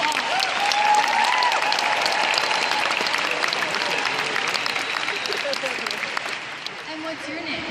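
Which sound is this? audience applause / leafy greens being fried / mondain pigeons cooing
audience applause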